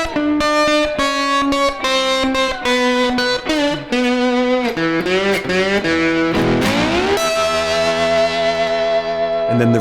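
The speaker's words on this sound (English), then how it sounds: "And then we can finish up with a turnaround." An electric slide guitar plays a bluesy descending turnaround lick with sliding notes and sustained tones, ending on a held chord, with no talking.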